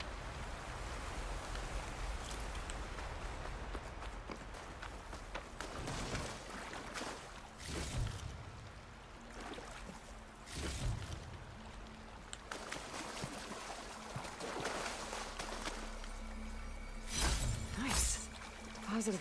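A waterfall in the video game Horizon Forbidden West, a continuous rushing wash of falling water at moderate distance, with scattered splashy bursts over the steady roar.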